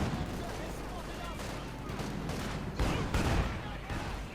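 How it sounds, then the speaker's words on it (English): Artillery bombardment in Company of Heroes 2, shells landing on Grenadiers during a 1v1 match, heard as a dense rumbling barrage with heavier booms toward the end, sustained and fairly loud, with commentary talk over it. "Bombardment there against Grenadiers up north."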